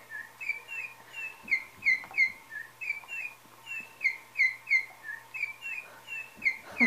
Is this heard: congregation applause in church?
no